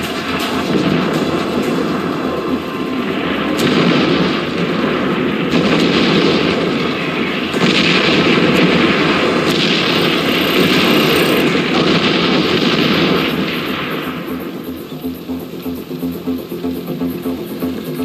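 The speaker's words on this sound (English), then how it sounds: "You've got artillery incoming." Incoming artillery fire in the video game Far Cry 4, a sustained loud roaring rumble of shelling and blasts that holds for long stretches before easing into a lower hiss.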